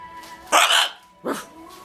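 A parrot imitates a dog, giving two short, harsh barks in quick succession, both close and loud.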